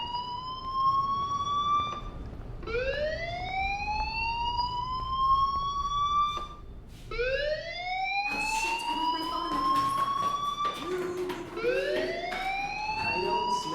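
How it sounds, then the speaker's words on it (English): A wailing fire alarm from the game Life is Strange, rising sweeps repeating every few seconds, loud and continuous, with no voices. "do you hear that fire alarm?"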